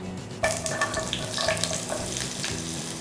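Two large onions sliced into long strips frying in hot oil with fennel seeds, a steady close sizzle with a sharp burst as they go in, followed by light stirring.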